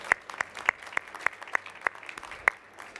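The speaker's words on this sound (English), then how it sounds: "we should give them a big round of applause, ladies and gentlemen, our first presenters here on stage" Sparse applause from a small audience for the first presenters on stage: a few distinct, fairly sharp claps at an uneven rhythm, about nine in three seconds, heard in a quiet room.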